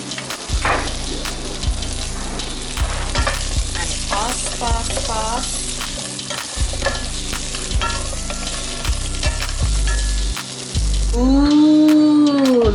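Potatoes frying in a pan and being stirred, a steady close sizzle punctuated by repeated scraping and tapping of a utensil against the pan, getting louder toward the end.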